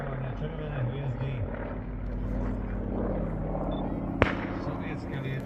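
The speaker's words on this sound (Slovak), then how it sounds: "sovietské lietadlo" A Soviet propeller aircraft with a radial engine drones steadily overhead at a war battle reenactment while a commentator keeps talking. A single sharp bang cracks out near the end.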